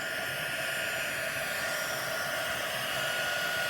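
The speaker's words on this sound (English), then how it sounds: "Now we're going to use our heat tool" A heat tool running on high setting blows a steady, loud, constant rush of air while melting embossing powder for a card, with no talking.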